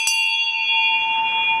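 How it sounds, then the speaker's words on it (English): An antique auctioneer's bell, a genuine one once used for property sales around Melbourne and country Victoria in the 1920s and 30s, gives one clear strike whose bright metallic tone rings on and slowly fades, close and alone. "this is a genuine auctioneer's bell used in the 20s and the 30s"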